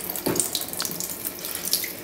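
Water runs steadily from a new kitchen tap into a sink, a close, continuous splashing hiss with small shifts in flow.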